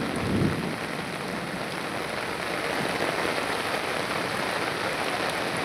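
Heavy rain pours in a steady, dense hiss onto a flooding road during a pre-monsoon storm, with a low rumble of thunder underneath, loud and continuous with no voices.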